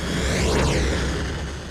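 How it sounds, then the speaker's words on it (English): A synthesized airplane pass-by made in Krotos Igniter: a broad whooshing roar that swells to a peak with a sweeping Doppler shimmer, then eases off, fairly loud and heard alone. "planes"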